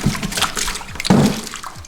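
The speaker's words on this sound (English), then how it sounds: "Look at all that water." Water splashes and sloshes noisily, with a heavier gush about halfway through, close by.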